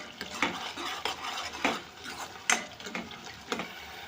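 Green chillies stirred in a pan with onion paste for prawn egg curry, a spoon scraping and clinking in regular strokes about every half second over a low sizzle, close and moderately loud.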